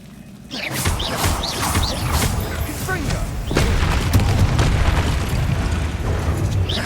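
A Bombarda blasting spell explodes in Hogwarts Legacy during a fight with spiders. Deep booms and bursts stack over a rumbling game soundscape with whooshing effects, and a second heavy blast lands midway, loud and sustained.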